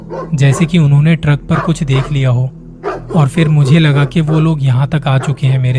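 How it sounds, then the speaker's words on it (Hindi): Dogs bark and yelp behind someone narrating a Hindi horror story about a truck driver on a haunted road, the barking running mixed under his continuous speech. "पीछे से कुत्तों के भौंकने की आवाज आ रही थी।"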